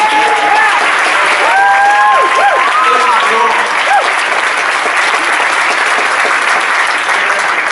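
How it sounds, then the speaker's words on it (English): A studio audience applauds steadily and loudly through the whole stretch, a dense even wash of clapping with a few faint voices or cheers mixed in early on. "I think that deserves a round of applause"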